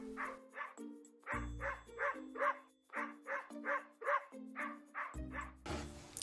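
Recorded puppy barks from a toy vet playset sound in quick bursts, a string of high, sharp yips in two rapid runs with a brief pause between, fairly faint overall.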